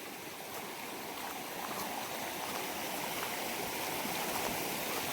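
A babbling stream in a forested village area during early rain rushes steadily, a dense unbroken wash of flowing water, close and constant throughout with no talk.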